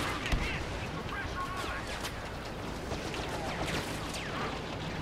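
Rapid blaster fire in a Star Wars Battlefront match on the Bespin map crackles in dense, fast bursts over a constant din of battle noise, with overlapping shots throughout.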